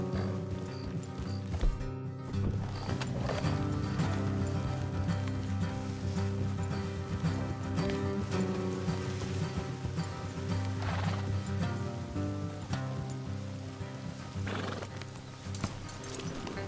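Horses in Red Dead Redemption 2 clip-clop steadily along a road and whinny now and then, under a continuous wash of game sound and music.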